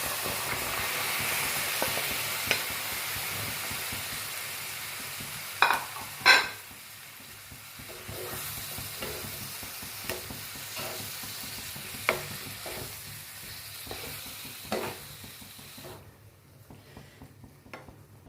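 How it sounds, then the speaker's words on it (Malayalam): Chopped lemon pieces fry in hot oil in a pan for pickle, giving a close, steady sizzle with occasional stirring clanks before the sound drops away near the end. "ഈ സമയം നമുക്ക് അരിഞ്ഞു വെച്ചിരിക്കുന്ന നാരങ്ങ കഷ്ണങ്ങൾ നമുക്ക് കൊടുക്കാം"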